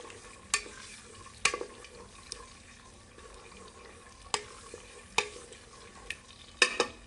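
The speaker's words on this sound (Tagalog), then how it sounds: "haluin natin guys" Italian spaghetti sauce stirred in a pan with a soft bubbling simmer, punctuated by sharp clinks and scrapes of the spoon against the metal at irregular intervals.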